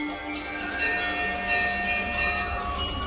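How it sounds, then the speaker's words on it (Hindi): Bells ringing at the Golu Devta temple, a steady metallic clanging and shimmering ring that carries on throughout, fairly loud and close. "तो गोलू देवता का मंदिर विशेष रूप से घंटियों के लिए भी जाना जाता है, तो इसे घंटी वाला मंदिर भी बोला जाता है।"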